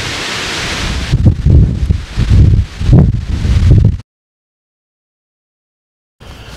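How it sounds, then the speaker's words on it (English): Strong wind gusts buffet the microphone on an island, loud rumbling bursts that cut to silence for about two seconds before resuming. "this is just a couple of samples from the wind that we do get here on the island."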